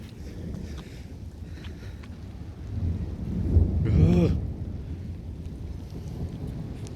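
A thunderstorm brings a steady wash of rain with a low rumbling swell of thunder building around the middle and fading away, with no talking.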